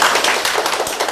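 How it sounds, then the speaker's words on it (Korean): Audience in a lecture hall claps vigorously, producing a dense, loud patter of overlapping hand claps that continues throughout without any talking. "박수 힘차게 치신 분들에게"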